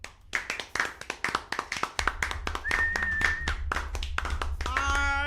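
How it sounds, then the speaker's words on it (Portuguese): A small group claps in a loose, rhythmic round of applause, with individual sharp hand claps standing out near the mic before a low hum and a brief tonal sound join toward the end. "Uma salva de palmas, por favor."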